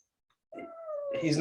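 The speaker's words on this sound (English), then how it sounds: "this is our cat Jack" A young house cat, less than a year old, gives a single drawn-out meow that rises and falls, followed closely by a person talking.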